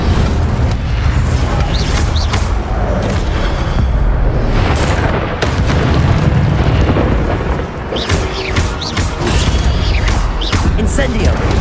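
Incendio fire spell cast in Hogwarts Legacy, heard as loud, continuous roaring bursts and booms layered with dense game effects and some voices throughout.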